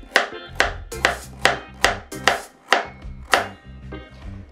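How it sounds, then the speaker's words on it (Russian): A knife chops carrot slices into sticks on a board while plov is being prepared. About a dozen crisp, close, evenly spaced cuts each end with a sharp knock, with no talking. "эти колечки потом я буду резать на брусочки."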